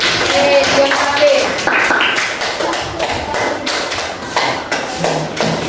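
A classroom of junior high students claps for a classmate, the claps uneven and close, mixed with chatter and voices throughout.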